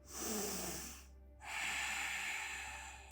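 A deep, airy inhalation through the nose during a yoga session, heard close and clear as two long breaths separated by a short pause, with no talking.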